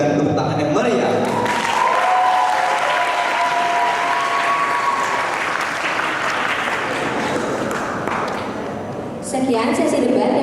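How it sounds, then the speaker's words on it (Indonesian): A school debate audience claps enthusiastically for around nine seconds, dense and sustained, with some voices mixed in, before the clapping thins and talk resumes. "mari kita berikan tepuk tangan yang meriah"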